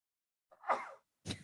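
A single sharp sneeze, close and fairly quiet, with a brief inhaled lead-in followed by a second short burst after a pause.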